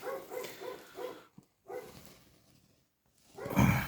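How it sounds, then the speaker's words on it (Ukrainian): Several dogs bark in short bursts at moderate distance, a run of rhythmic barks followed by a pause, then a louder yelp near the end, with no talk over them. "собацюри гавкають"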